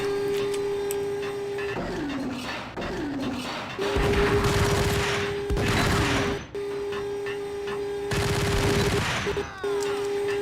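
Sniping weapon firing in the PC shooter Max Payne, several sharp blasts and bursts separated by pauses, loud and close over mechanical game noise and a steady electronic hum.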